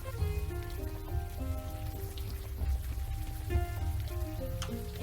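Pouring rain in the video game Unavowed, a steady patter of rain on surfaces beneath soft sustained music tones, continuous and moderately quiet.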